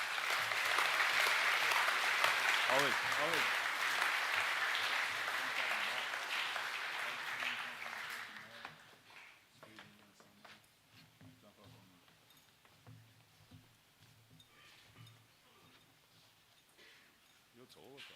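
A school audience at a co-curricular awards ceremony claps for students, loud sustained applause that fades after about eight seconds into a quieter room with scattered voices and talk.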